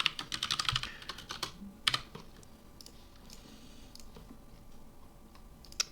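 Fast typing on a computer keyboard, a dense run of close, crisp key clicks that thins to a few scattered taps, with no voices.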